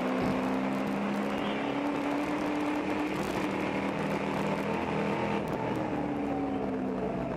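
Endurance race cars circle a track, a V8 running alongside small Mazda Miatas and Ford and BMW four-cylinders, making a continuous mid-distance whir and drone of engines that rises and fades as cars pass, with no voices.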